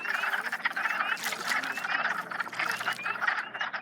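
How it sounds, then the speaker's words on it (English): Wood frogs croaking outdoors in spring, a dense chorus of rapid, duck-like clucking calls overlapping continuously at moderate volume, with no voices. "Mama, it's just a frog."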